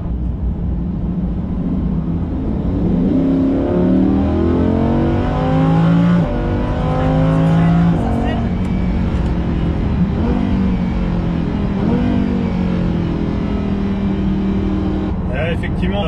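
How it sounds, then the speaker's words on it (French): A Lamborghini Huracan V10's engine rises in pitch through several rapid gear changes, heard from inside the cabin while people talk over it. "Là, quand on accélère avec la Lamborghini, l'efficacité est totale"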